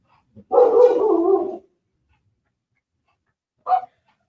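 A dog by a house gate in a provincial Philippine setting gives one sustained bark lasting about a second, then a short single yip a couple of seconds later, fairly close with quiet between.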